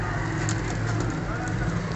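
A breeder pigeon, an Indian Kala (black) pigeon, coos in low, soft, repeated murmurs close by, set against a faint steady background hiss.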